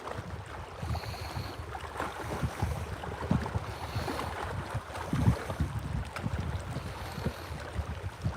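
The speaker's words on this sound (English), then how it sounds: "Boy, that wind's picking up again." Wind gusting across Prineville Reservoir at a state park during trout fishing, a steady broadband rush with fluctuating low rumble and occasional stronger buffets, continuous and fairly close throughout.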